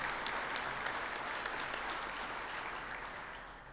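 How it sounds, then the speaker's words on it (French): Steady audience applause at a farmers' union congress award ceremony, a dense continuous patter of many hands clapping that fades slightly toward the end, with no voices over it. "Je pense qu'on devrait même se donner une main d'applaudissement"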